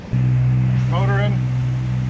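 A sailboat's inboard engine motors along the Intracoastal Waterway at about 2600 RPM, a loud, steady low hum that holds throughout, with a brief voice speaking over it partway through.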